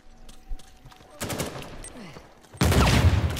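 Gunfire in an Uncharted 4 multiplayer King of the Hill match: scattered shots build into a dense burst of automatic fire that swells loud toward the end, with players talking faintly over it.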